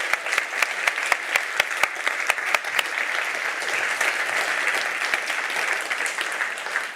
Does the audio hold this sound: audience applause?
yes